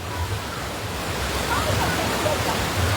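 Heavy rain pours down steadily during a flood in Panei Tongah, a broad, constant wash of water noise close by with no break across the stretch.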